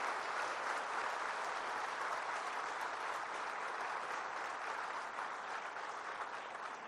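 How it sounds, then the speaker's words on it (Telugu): A large audience at a Telangana political gathering with the Chief Minister applauds steadily, a dense, even wash of clapping lasting the whole stretch with no voices over it. "మీరు పెద్ద ఎత్తున వారిని చప్పట్లతో అభినందించండి."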